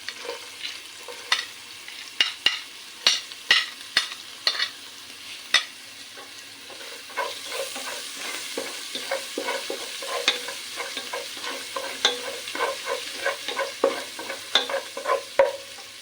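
Ginger dropped into hot oil with garlic frying in a pan for a fish mappas, with close, steady sizzling and crackling under a run of sharp stirring scrapes and clicks of a spoon against the vessel, no voices.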